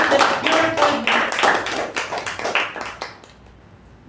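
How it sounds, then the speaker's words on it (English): At a club meeting, a small audience claps for their sergeant, with distinct individual hand claps close by and fairly loud, thinning out and fading to quiet near the end, while a voice briefly murmurs early on. "let's give a huge round of applause for our sergeant"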